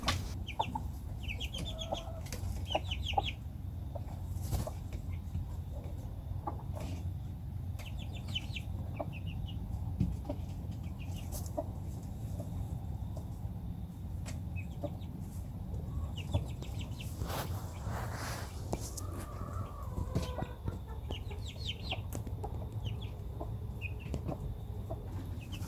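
Mother hen Kiko clucks softly among her chicks, scattered short clucks and faint peeps over a steady low rumble of background noise, fairly close and continuing without talk.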